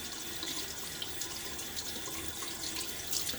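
Tap water runs steadily while a safety razor with a slippery handle, a Fatip Grande, is rinsed at the sink, a continuous close splashing stream throughout with no talking.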